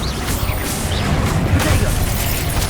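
A Bombarda blasting spell goes off in Hogwarts Legacy within loud, continuous battle noise: heavy crashing rumble and bursts close up, with a spoken voice mixed in.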